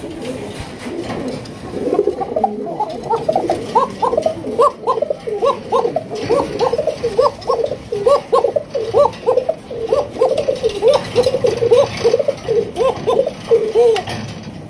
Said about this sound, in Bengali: এটা হচ্ছে সিঙ্গেল কোকার একটা নর কবুতর, নর কবুতর। আশা করি এটা ডাকবে ইনশাআল্লাহ।